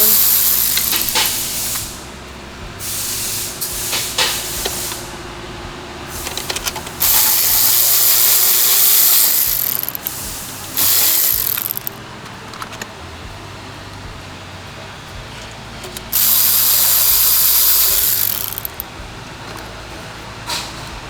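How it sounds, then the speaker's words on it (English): Bolts being driven into a water pump cover on a 2018 Volkswagen Jetta with a T30 driver, heard as bursts of loud hissing, ratcheting mechanical noise in several separate runs, close up with no talking. "Let's start getting our bolts back in here."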